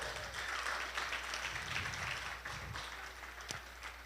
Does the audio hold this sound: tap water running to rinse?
no